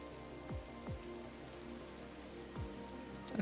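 Rain during a video game event in Girls' Frontline: Neural Cloud, a soft, steady patter of drops with a few low swooping tones over a faint ambient background and no talking.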